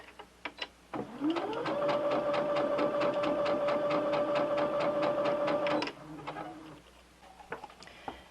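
Brother SE625 sewing and embroidery machine starting up and stitching at a steady rapid rhythm with a whirring motor hum for about five seconds, then stopping, with a few clicks before and after.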